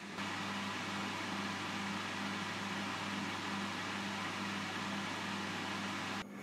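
A Lidl Parkside ceramic fan heater in fan-only mode blows with a steady whirring hum and airy hiss, unchanging for several seconds before cutting off abruptly near the end.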